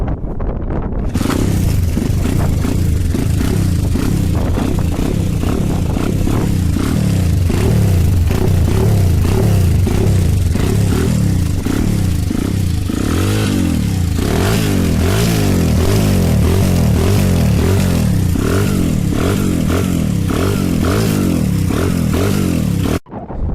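A dirt 125 motorcycle engine starts and revs loudly and close, its throttle blips rising and falling in a steady, rough, continuous roar with mechanical clatter throughout.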